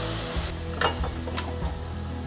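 Mushrooms stir-frying in a pan make a loud, steady sizzle, broken by a few sharp scrapes and clinks of a utensil against the pan, with no speech.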